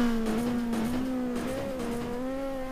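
A GTR2 race car engine in cockpit view climbs steadily in pitch as it accelerates down the home stretch, a loud, sustained whine with clear harmonics and no talk over it.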